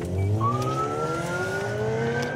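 A police car swings through a U-turn, its engine droning close by and rising smoothly in pitch as it speeds up, with no talk over it.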